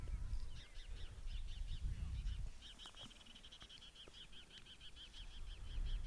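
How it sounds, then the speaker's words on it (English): A bird calls in a rapid, repeated series of short chirps from above a baseball field dugout, faint and steady over low crowd and wind rumble, with scattered voices in the background. "Man, we got a bird that's really chirping."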